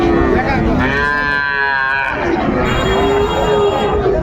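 A cow moos loudly and close at a cattle market in Dinajpur, Bangladesh, a long drawn-out low call with a rising tone, over steady outdoor background noise.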